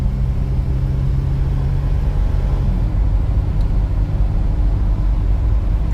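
A 1993 Nissan Pathfinder XE with a V6 rolls along the road, its steady low engine rumble and road noise filling the cabin continuously, with no talking.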